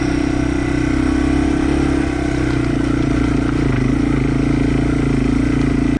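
A Yamaha TW200 motorcycle engine chugs steadily and loudly at low revs under load while climbing a rocky trail, holding a constant drone for about six seconds before cutting off abruptly.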